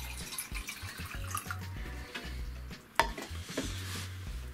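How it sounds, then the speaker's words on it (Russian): Water is poured into an aluminium mug set on a portable heater, giving a trickling, splashing sound with soft metallic clinks and one sharp knock partway through. "И заливаем воду."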